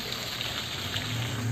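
A tall cascade of water falls into a swimming pool at a country property, making a constant, broadband splashing rush that is heard up close with no voices.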